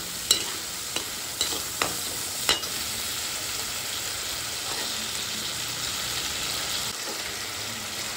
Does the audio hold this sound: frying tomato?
yes